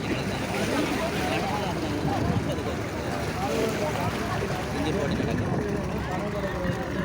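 Continuous engine drone of 25-horsepower outboard motorboats racing at sea off Mathagal, a dense steady roar with wind and water noise and no breaks.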